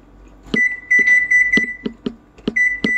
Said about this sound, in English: Set the alarm 1 hour.